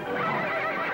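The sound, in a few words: horse neighing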